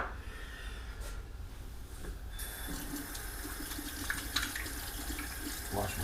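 Steady running water from a kitchen sink tap as hands are washed after cooking shrimp, moderately close with splashing shifts partway through and a continuous gushing flow.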